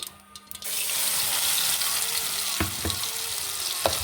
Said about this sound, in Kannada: ಫ್ರೈ ಮಾಡ್ಕೊಂಬ ಒಂಚೂರು